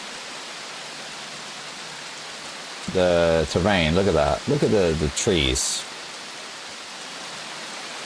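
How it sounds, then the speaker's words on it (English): Steady rain hisses in the hiking survival game Prologue, a dense, even wash of falling drops throughout. Someone talks briefly in the middle over it. "Raindrops."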